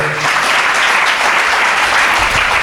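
Sustained applause from a church audience at a prayer-meeting grand finale, dense steady clapping filling the whole stretch at close range without talk.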